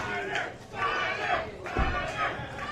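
A St. Louis pro wrestling crowd at a Glory Pro Wrestling show cheers and shouts for Blair Onyx, rising in waves of loud yelling with a few sharper thumps underneath.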